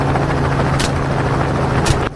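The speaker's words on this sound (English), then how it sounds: "From the helicopter's side door" Helicopter in flight during a daytime wild hog hunt in Texas, a steady loud rotor and engine roar filling the whole clip, with a couple of brief sharp bursts riding over it.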